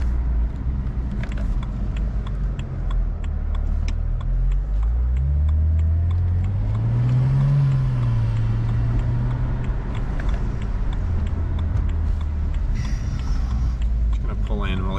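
A BMW with an N54 engine and a swapped-in dual-clutch transmission, cruising at light throttle, gives a steady close engine drone and road rumble whose pitch rises and falls gently as it drives, while someone talks over it.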